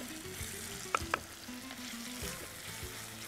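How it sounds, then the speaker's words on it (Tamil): Ginger sautéing with dried red chillies in a pan, a quiet steady sizzle with two sharp utensil clicks against the pan early on and soft stirring scrapes throughout. "நல்லா வதக்குங்க. இஞ்சி சேர்க்குறோம். நல்லா 3/4 பாகத்துக்கு வதக்கணும்."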